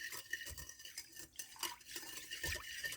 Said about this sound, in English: I'm going to take a wire or a whisk. I'm going to blend these all together.